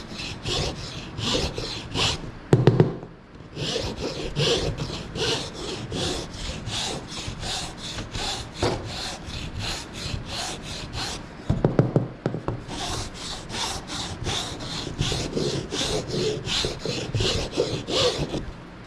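A carved wooden wand being smoothed with a file or rasp, long runs of rapid scraping strokes heard close and steady, broken by a couple of brief pauses and small knocks, no voices.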